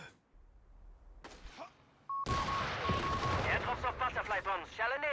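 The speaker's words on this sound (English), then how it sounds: "Another white phosphorus round coming in." White phosphorus artillery round in Company of Heroes 3, a sharp loud impact blast followed by crackling, burning rumble, with a beep tone and whistling effects over continued battle noise; a commentator talks throughout.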